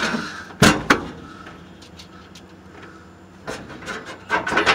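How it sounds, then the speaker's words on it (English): Scraping, rasping sounds of a screw turned in by hand with a screwdriver while replacing a Frigidaire oven heating element, a couple of sharp clicks, then a burst of rubbing and squeaking near the end, close by. "We're going to screw it in."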